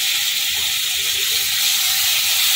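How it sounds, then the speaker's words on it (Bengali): A spice paste with potatoes and pointed gourd sautés in oil for a fish kalia, giving a steady close hiss and sizzle with no other sounds. "এটা ভালো করে কষাবো যতক্ষণ না তেল ছেড়ে যাবে।"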